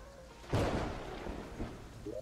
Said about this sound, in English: Thunder is thundering.